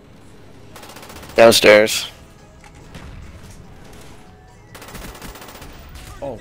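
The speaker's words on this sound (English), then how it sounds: "He's shooting me through walls." Gunfire in the shooter Black Ops 1 gameplay, with a loud close burst of rapid shots followed later by a fainter stretch of automatic fire, while a player talks briefly over the game.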